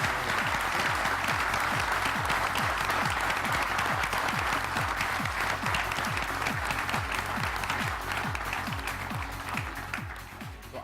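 An audience at the NASSCOM Product Conclave 2011 conference gives sustained applause, dense and even for about ten seconds before tapering slightly at the end, with no talk over it.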